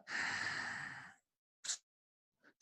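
A long, steady exhale during a guided breathing exercise, breathy and close, followed by two short, faint breath sounds after a pause, with no talking.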